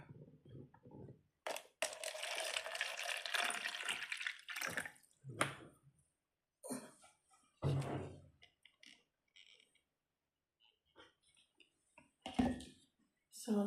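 Water is poured from a small container onto pothos cuttings in a jar, splashing in short bursts and trickles with pauses between, close and fairly soft.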